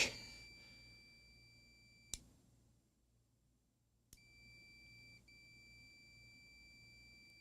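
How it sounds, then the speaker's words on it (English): A Data General Dasher computer terminal gives out steady high electronic beeps, a continuous tone broken by short clicks and a brief gap, heard alone over a low background hum. "I hate having the beep on,"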